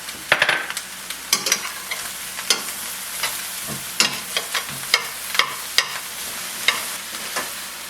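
Red onions and shallots frying in a pan with Brussels sprouts that are starting to brown, under a steady sizzle with frequent sharp clatters and scrapes of a utensil against the pan, close and without speech.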